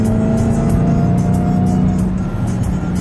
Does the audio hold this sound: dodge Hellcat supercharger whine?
yes